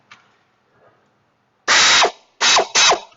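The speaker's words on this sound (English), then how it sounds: "I'm just going to use the air ratchet on this because..." A pneumatic air ratchet works on a car in a shop: after a faint tap, three loud, close bursts of whirring, clattering ratcheting, one long and two shorter, with brief pauses between.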